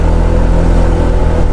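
A motorcycle engine drones loudly and steadily while climbing a steep mountain road in Ifugao, a close, continuous hum with no speech over it.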